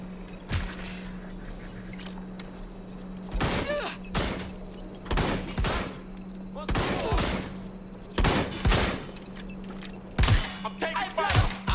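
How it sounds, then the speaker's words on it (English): Gunfire in Watch Dogs Legion comes as scattered sharp bursts and thuds over a steady hum. Shots cluster in short volleys at irregular intervals, fairly close and loud, and some speech can be heard. "I'm getting shot at here!"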